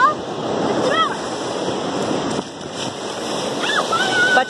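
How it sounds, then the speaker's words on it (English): Strong waves from the Indian Ocean break on a beach, a continuous surf roar with swelling washes, overlaid by brief bird-like chirps and faint voices. "the waves are pretty strong"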